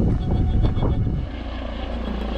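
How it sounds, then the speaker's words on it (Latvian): A medical helicopter landing in the mountains, its rotor a loud, steady churning roar close by that thumps heavily at first, then settles into a constant low drone, with no voices. "Un izrādās, tas pat bija medikopters."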